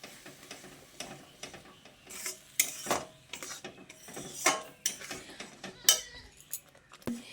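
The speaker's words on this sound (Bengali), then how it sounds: "চিনির রসটা দিয়ে ভালোভাবে সুজির সঙ্গে এভাবে নাড়াচাড়া করে নিতে হবে" Semolina halwa being mixed with sugar syrup in a pan: soft, irregular spoon scrapes and metallic clicks against the pan, quiet and close, with sharper knocks in the middle and no talking.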